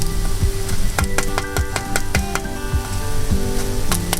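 Crisp baked tofu pieces being touched and pressed, giving repeated small crackly crunches and taps close up over a steady sizzling background hiss.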